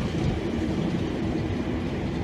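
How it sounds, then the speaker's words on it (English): A 1950s class 08 shunter locomotive working on a railroad at Westport gives a steady, loud, close rumble with dense broadband rolling noise and no pauses. "That's a 1950s loco,"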